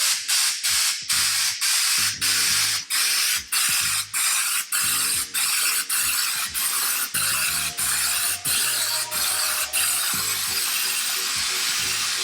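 Spray gun applying Raptor paint to a Crafter campervan, a loud hissing spray broken into a dozen or so regular bursts with brief pauses, a mechanical clicking rattle underneath, close and without talk.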